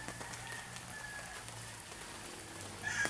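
Overnight rain keeps falling into the morning, a faint, steady patter of drops on surfaces with a few scattered louder taps and a soft swell at the end.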